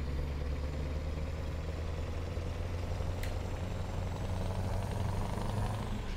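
Open-pipe Euro truck engine in a truck-driving simulator, a steady loud low rumble and drone held throughout with no talk over it.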